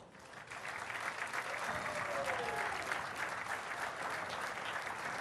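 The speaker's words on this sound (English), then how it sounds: "how about another nice round of applause for our 2 finalists?" Steady, loud applause from a large audience at a girls' state finals, honoring the two finalists; dense clapping holds evenly for several seconds.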